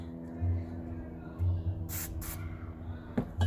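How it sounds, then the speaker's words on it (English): Two short bursts of hissing WD-40 aerosol spray, one after the other, over a low background hum with brief low thumps. "we're gonna spray some more if necessary"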